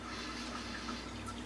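Water drains slowly from a bathtub after a quilt has been soaked and rinsed. It makes a faint, steady gurgling trickle at low volume with no talk over it.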